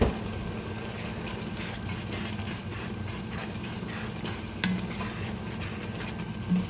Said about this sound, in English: I'm trying to scrape the bottom for all the brown bits.